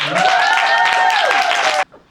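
Audience applause at a talk for speaker Steph Mahony; loud, dense clapping close by that holds steady, with a voice mingled in, then cuts off abruptly near the end.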